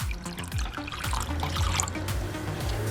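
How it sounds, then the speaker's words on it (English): Half a cup of water pours steadily into a glass containing baking soda, a continuous bubbling trickle with rising tones as the vessel fills. "Next, you're going to add in a 1/2 cup of water."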